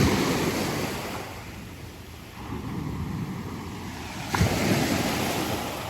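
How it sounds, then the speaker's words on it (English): Big ocean waves breaking along a shoreline on the Sound, a steady roaring wash of surf mixed with wind buffeting the microphone, with a slightly louder swell near the end and no talking. "Here's some big waves."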